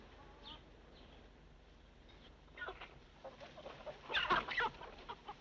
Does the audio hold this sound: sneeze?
no